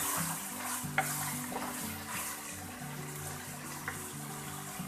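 Garlic stirred into frying goat meat for kachnar gosht in a pan, with a steady sizzle, soft scraping strokes and occasional clinks of the spoon against the pot throughout.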